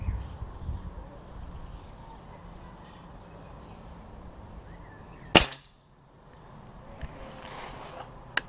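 A Stoeger RX20 air rifle fires one sharp, loud pellet shot that strikes the target, with quiet outdoor background noise before and a faint tick or two afterward.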